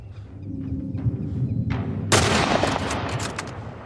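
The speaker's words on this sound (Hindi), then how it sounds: "एली इतना वेट क्यों कर रही है गोली चलाने के लिए?" A sudden sharp burst of gunfire from The Last of Us Part 1 cuts in partway through, followed by a dense crackle of repeated shots over a low rumbling backdrop.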